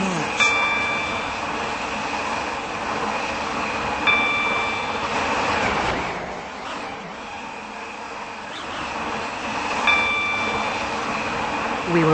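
A passenger train in the Roblox SCR rail simulator runs between Connect Whitefield and Beechley, giving a steady rolling rumble with a dip midway and brief high electronic tones at intervals.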